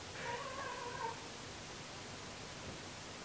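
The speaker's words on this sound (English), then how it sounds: "My cat's meowing, it's really annoying." A house cat meows faintly indoors, one drawn-out, slightly wavering call lasting about a second, then quiet room noise.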